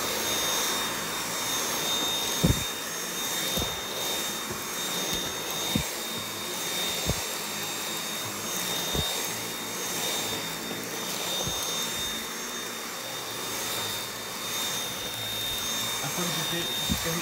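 Dyson V8 Absolute cordless vacuum cleaner running through a house, a steady high-pitched whine with a constant airflow hiss, punctuated by occasional light knocks as it moves over the floor and furniture.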